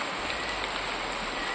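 Heavy rain pours down steadily, a dense, loud, even hiss of drops hitting surfaces close by, with no voices over it.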